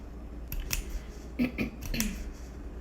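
Scissors snipping through felt while cutting out felt flower pieces: a few short, crisp snips spaced apart, close and fairly quiet, with no talking.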